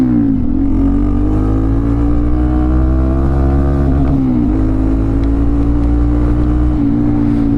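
A 2025 Honda Monkey 125 motorcycle with a cheap aftermarket AliExpress exhaust rides along, its engine droning loud and close with a steady low tone that dips briefly as the rider shifts or eases off.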